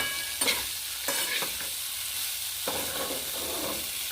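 Puti fish and crushed fig curry being stirred and sautéed in a pan: a soft continuous sizzle with intermittent scraping strokes of a spatula against the pan, close up and with no talking.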